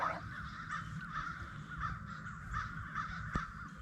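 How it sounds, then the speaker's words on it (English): Crows caw repeatedly on an outdoor morning, harsh calls coming in a steady, uneven rhythm, some near and some farther off, with no talking. "The crows are going crazy this morning."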